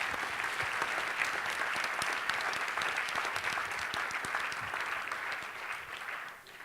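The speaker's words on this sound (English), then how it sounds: "Can you give them a nice little round of applause?" An audience gives a steady, dense round of applause, many hands clapping together in a sustained wash that fades slightly at the end, heard from a moderate distance without speech.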